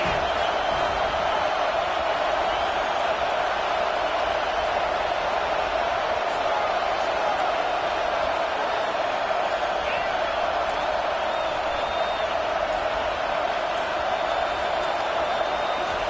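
Football stadium crowd noise on a third-and-long defensive play, a dense, steady roar that holds evenly throughout with scattered cheers and whoops. A commentator's voice can be heard over it.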